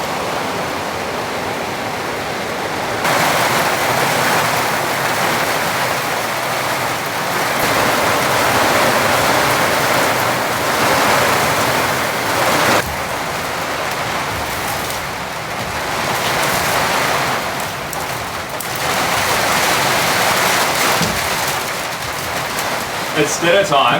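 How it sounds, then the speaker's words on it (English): Heavy torrential rain pours down outside a remote cabin, a loud continuous broadband roar that swells and eases in waves throughout, with a voice speaking over it at times. "There's a lot of rain coming down out there."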